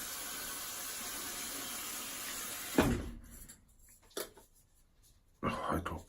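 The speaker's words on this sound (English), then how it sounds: "Just gonna add some water here in this sink" Tap water runs steadily into a sink as a constant close hiss, then cuts off abruptly partway through, leaving quieter handling knocks and clatter.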